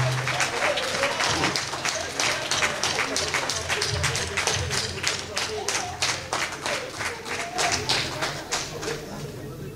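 Audience at an evening show in Cotonou applauding a winning duo, sustained crowd clapping with distinct sharp claps at a steady rhythm, fairly loud and continuous with some voices underneath.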